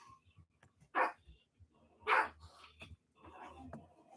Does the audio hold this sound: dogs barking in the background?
yes